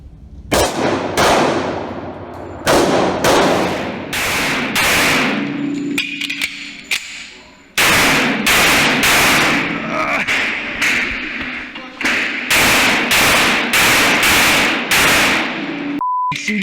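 Loud pistol gunshots from an IDPA CDP stage fired with a .45, coming in rapid strings of sharp close cracks, with short pauses between the bursts.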